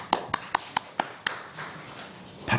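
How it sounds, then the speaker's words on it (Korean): A church congregation claps in a quick burst of six or so sharp, separate claps, spaced evenly and then fading, with a faint patter at the end. "박수 한번 쳐주세요."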